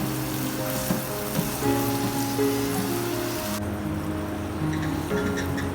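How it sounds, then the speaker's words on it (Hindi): Tomatoes and green chillies fry with onions in a pan for keema phaliyan, a steady, close hiss of sizzling oil with faint utensil clatter and a low background hum. "अब हमने उसमें टमाटर और सब्ज़ मिर्च डाल दी है और इसको भी हम करेंगे हल्का सा फ्राई"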